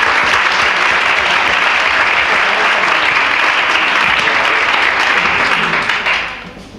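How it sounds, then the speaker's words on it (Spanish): Sustained applause from an audience at a Spanish-language talk, loud and dense with many hands clapping together, holding steady for several seconds before fading at the end. "Le damos un aplauso."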